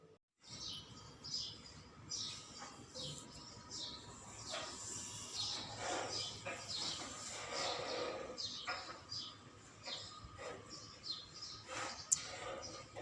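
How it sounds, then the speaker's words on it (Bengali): Morning birdsong outdoors: repeated quick chirps and tweets from several birds, fairly faint and somewhat distant, scattered over a low steady background with no talking. "সকালবেলা পাখির কিচিমিচি শব্দ কত ভালো লাগে না?"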